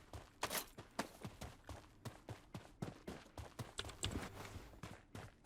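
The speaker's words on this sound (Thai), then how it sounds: "ผมได้ยินเสียงฝีเท้า" Footsteps in the shooter game Project BloodStrike, a quiet run of quick, evenly spaced thuds and scuffs with a few sharper cracks mixed in and no talking.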